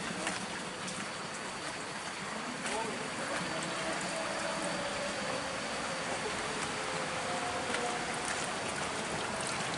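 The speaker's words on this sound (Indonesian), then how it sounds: "Air mengalir." Steady broadband rush of flowing water in a rural Sundanese village in the Jampang Kulon area, continuous and even throughout with no voices clearly standing out.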